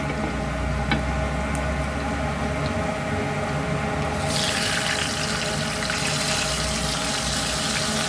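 Hilsa fish head and tail dropped into hot oil, a continuous hissing fry that bursts louder and brighter partway through as the pieces hit the pan, with a low hum underneath.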